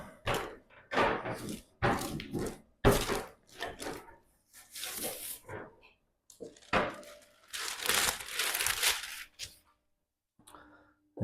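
Baking paper crinkles and rustles in irregular bursts as shortbread dough is rolled beneath it, with short pauses between the crackling strokes and no talk.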